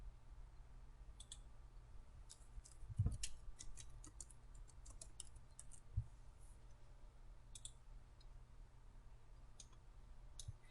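Soft, scattered clicks spread throughout, with a couple of slightly louder taps, quiet and close, no voices.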